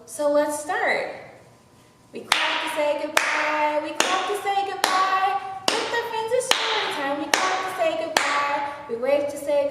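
Children at a library story time clap along to a goodbye song, sharp rhythmic hand claps landing roughly every second over a sung melody, fairly close and steady.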